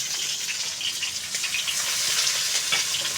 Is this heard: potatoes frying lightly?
yes